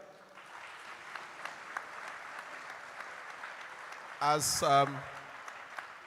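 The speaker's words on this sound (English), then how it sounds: "Can the applause be better?" A conference hall audience applauding in Lagos with a steady wash of even clapping. Near the end a voice briefly speaks over it.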